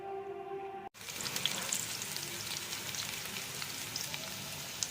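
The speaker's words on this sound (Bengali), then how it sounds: "কুন্দ্রি আর আলু সরু সরু করে কেটে ভাজতে বসিয়ে দিয়েছিলাম।" Thin strips of ivy gourd and potato frying in oil, a faint hum that cuts off, then a steady, even crackling sizzle close by, with no voices.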